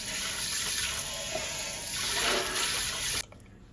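Running water rinsing the drum of a new wet grinder, a steady loud wash of splashing and flowing that stops abruptly near the end.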